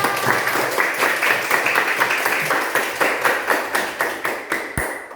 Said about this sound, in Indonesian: Oke, tepuk tangan buat kita semuanya.